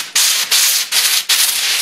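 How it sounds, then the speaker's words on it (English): Hand sanding along the grain of a carved redwood sign, three quick rubbing strokes with brief pauses between, close and loud with a steady abrasive hiss and no talk. "I'm sanding with the grain the whole time."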